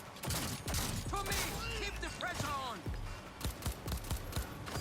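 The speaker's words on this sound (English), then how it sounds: "Just getting in close with the shotgun" Shotgun blasts and combat effects in Cyberpunk 2077 Phantom Liberty, sharp repeated shots under a busy mix with someone talking over the action, fairly quiet overall.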